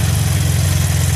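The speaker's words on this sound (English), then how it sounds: "There goes the pump" Methanol injection kit pump running on a 2013 Hyundai Sonata 2.0 Turbo, a loud continuous low droning hum with a steady buzzing vibration, close up and unchanging.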